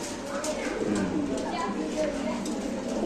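A male Giant Homer pigeon coos nearby in soft, rolling bursts while someone talks over it throughout.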